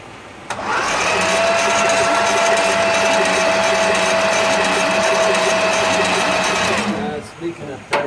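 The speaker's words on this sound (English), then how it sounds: "Now we're getting ready for the second testing of this fuel pump." An electric fuel pump on a 1966 Plymouth Fury under test, with a steady loud whirring buzz and a thin high whine that starts abruptly, holds for about six seconds, then cuts off, followed by a few faint knocks.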